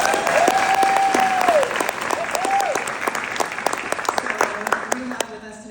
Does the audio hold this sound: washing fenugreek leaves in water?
no